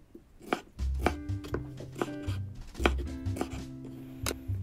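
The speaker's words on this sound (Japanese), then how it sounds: "ヘタと種を取って縦半分に切り、それぞれを乱切りにします。" A kitchen knife chops half a paprika, seeded and stemmed, into rough chunks on a board: a close, irregular run of sharp thuds, each followed by a lighter tap, with no voices.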